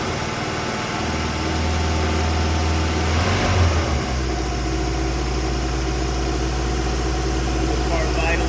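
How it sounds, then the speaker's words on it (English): A warmed-up 1968 Saab 96 V4 Deluxe engine idles steadily up close, a continuous low droning hum with a brief surge in the middle, then settling back to an even, smooth idle. "The car's idling now beautifully,"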